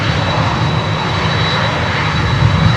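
A LATAM Cargo jet airliner with CF6 engines at Miami airport gives off a loud, steady roar with a faint high whine on top. It fills the whole clip and sounds close by.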